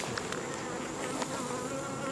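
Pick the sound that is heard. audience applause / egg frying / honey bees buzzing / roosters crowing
honey bees buzzing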